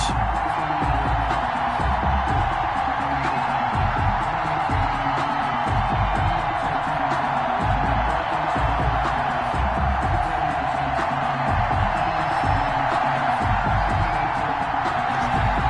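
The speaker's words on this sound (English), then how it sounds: "This crowd is ready as their guys get set to match up between the Los Angeles Chargers and the New York Jets." Stadium crowd noise in an EA Sports Madden NFL game before a Los Angeles Chargers versus New York Jets matchup: a dense, continuous roar of cheering at steady loudness for the whole stretch, with no clear talk over it.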